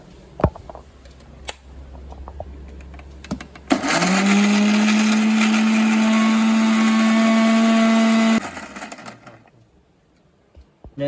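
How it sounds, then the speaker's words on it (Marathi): A mixer grinder grinds cashews for a Goan cashew bharit: a sudden loud, steady motorized whine runs for about five seconds, then cuts off, with quiet handling noises before and after. "सो आता इकडं मिक्सर चालू करूया"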